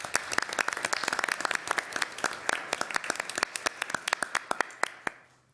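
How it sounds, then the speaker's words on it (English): A modest audience at a school board candidates forum claps for students, distinct individual claps forming a loose round of applause that thins out and tapers to a few last claps before stopping. "Let's give you a round of applause."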